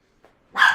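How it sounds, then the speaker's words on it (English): Dog gives one short, sharp, close bark after a tiny faint yip, alone in a quiet room. "That's my dog"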